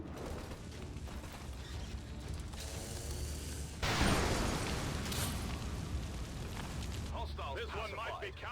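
Incoming-fire explosions in a video game combat scene, with a loud broadband blast near the middle and rumbling bursts over continuous battle noise. Voices talk throughout.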